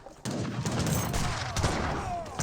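Massed musket volleys and heavy cannon fire from an Age of Empires 3: Definitive Edition battle, a steady loud crackle of gunfire with booming shots, continuous and close throughout.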